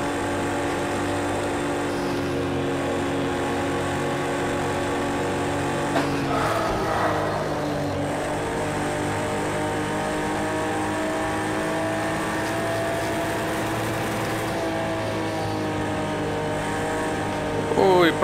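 Ford GT and Ferrari race cars in Project Cars 2 drone with loud, sustained engine tones that shift pitch through gear changes, a sharp transient near the middle, under continuous commentary.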